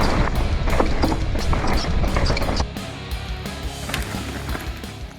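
A mountain bike, a borrowed high-end VTT, lands its first gap jump outdoors with a loud rattling thump and chatter of tires and frame, followed by quieter rolling and clatter as the ride continues, no voices.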